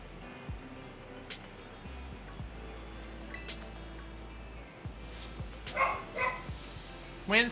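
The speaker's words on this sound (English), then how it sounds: "There's nothing to be barking about." A pet dog named Winston barks a few short times, soft and somewhat distant at first, with louder yips near the end under a game's background music.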